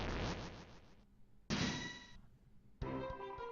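The Hammer of Justice rings out in Deltarune, three loud metallic clangs struck about a second and a half apart, each bright tone decaying into a ringing tail.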